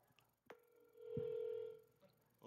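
A phone placing an outgoing call, a short click and then a single steady electronic tone lasting about a second, faint and close with no talk.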